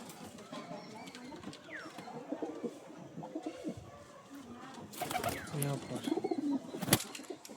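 Cargo pigeons at a pigeon show or market, a male and female pair being handled, give low cooing calls with some wing flutters, mixed with a busy crowd's chatter and nearby talking.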